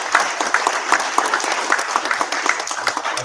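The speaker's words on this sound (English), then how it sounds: "So one more time, clap it up for that." Sustained applause from a crowd, dense steady clapping throughout with no pauses, fairly loud and close.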